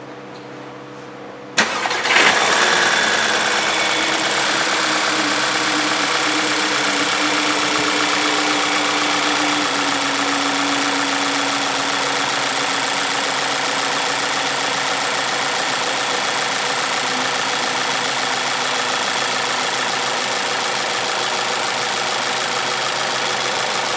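A 2009 Volkswagen Passat 2.0T engine cranks and catches, flaring briefly before settling into a steady, even idle that continues alone at moderate volume.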